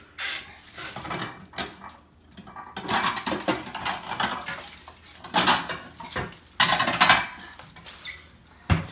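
A piece of homemade Sicilian meat lasagna being cut and lifted onto a plate, with repeated clinks and scrapes of a metal server and cutlery against the baking dish and plate, busy and close, with no talking.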